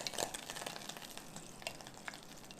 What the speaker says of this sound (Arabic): معلقه زبده او سمنه كده في الطاسه